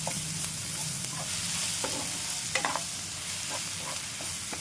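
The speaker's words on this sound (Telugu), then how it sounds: "మనం చిల్లీ, గార్లిక్, జింజర్ ఏదైతే ఆడమో అది దీంట్లో వేసుకుని పచ్చివాసన పోయేంత వరకు వేసుకుందామండి" Chili, garlic and ginger fry in hot tempering oil in a pan, a steady soft sizzle with intermittent scraping clicks of a spatula stirring, close and alone without talk.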